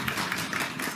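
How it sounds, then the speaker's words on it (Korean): Audience applause at a press conference held as a policy debate: a dense, steady wash of many hands clapping through the whole second, fairly even in loudness with no voices on top. "박수 한번 힘차게 보내주시기 바랍니다"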